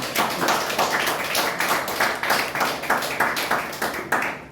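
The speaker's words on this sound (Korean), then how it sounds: "나오실 때 박수 한번 보내주시죠" An audience at a seminar on advance medical directives claps for a lecturer walking to the stage, a brisk run of irregular hand claps lasting several seconds.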